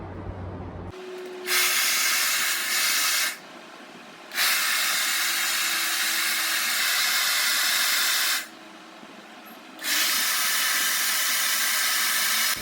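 A hair dryer on the cold setting at maximum speed blows in three long loud bursts of rushing air, each cut off by short quiet pauses, close and with no one speaking.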